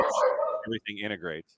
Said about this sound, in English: Sorry about my dogs. They're going crazy right now.